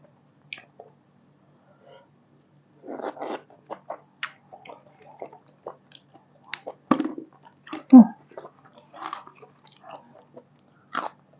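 Close-up wet chewing and smacking of raw beef dipped in bitter sauce, eaten with fresh vegetables, in scattered bites against a quiet background, with occasional soft murmurs from the eater.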